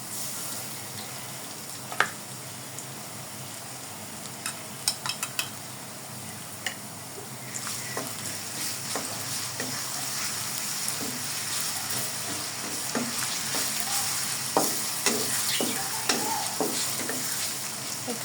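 Garlic paste frying in a pan, a steady soft sizzle joined by scattered sharp clicks and spatula scrapes that grow busier toward the end, close and unaccompanied by speech.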